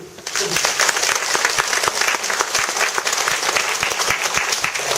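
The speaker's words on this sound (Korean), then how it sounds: "박수를" An audience at a Korean studies lecture in Yeongju breaks into steady, full applause, many hands clapping evenly and fairly loud across the whole stretch.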